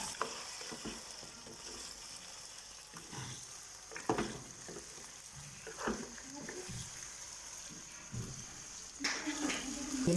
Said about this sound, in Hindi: पहले हम इसमें लहसुन डालते हैं।